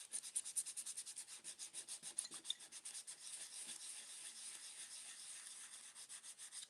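100 grit sandpaper scratched briskly against a surface, a rapid rhythmic series of rough back-and-forth rasps, close and fairly quiet, with no voices.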